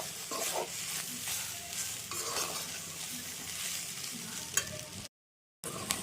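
Green beans with crushed chilli sautéed in a village-style pan, a steady close sizzle with repeated scraping stir strokes, a brief silent gap near the end before the frying resumes.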